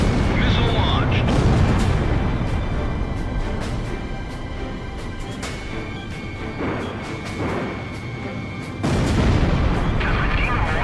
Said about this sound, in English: Galm 1, missile launched.